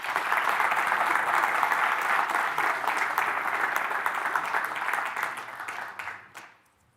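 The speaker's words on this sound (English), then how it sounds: "can we get last round of applause for Liam, please?" An audience at a tech keynote event breaks into sustained applause, dense steady clapping from a large crowd that holds for several seconds before tapering off into quiet.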